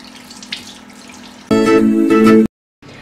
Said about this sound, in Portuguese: E vamos enxaguar em água corrente.